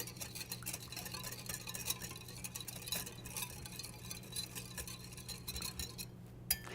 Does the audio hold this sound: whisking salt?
yes